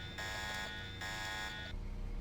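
A harsh electronic alarm buzzes from the Deus Ex game in two long sustained blasts with a short break between, loud and steady, then cuts off into quiet room noise.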